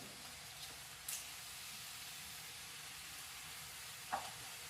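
Thin fish fillets sear in olive oil with a soft, steady sizzle and hiss. A couple of faint clicks from the pan are the only other sounds.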